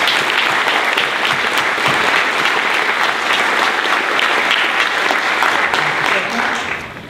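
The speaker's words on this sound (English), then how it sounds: "Let's give one more round of applause to all of our honorees." Sustained, dense applause from a staff meeting audience honoring award recipients, loud and steady throughout before tapering slightly at the end.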